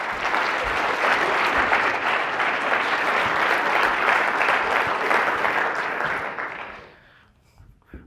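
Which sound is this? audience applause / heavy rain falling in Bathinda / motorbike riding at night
audience applause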